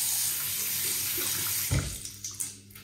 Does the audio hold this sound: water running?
yes